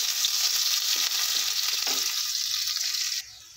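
Chopped onion frying in hot oil with cumin and bay leaf, a loud, even hiss with faint scraping, continuous until it drops off abruptly near the end; no voices.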